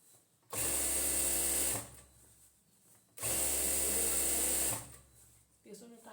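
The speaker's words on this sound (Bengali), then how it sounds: "আরও দুইটি সেলাই দেবো।" A sewing machine whirs in two sustained bursts, each lasting over a second, while stitching elastic into the waistband of palazzo pants, loud and close with quiet pauses between.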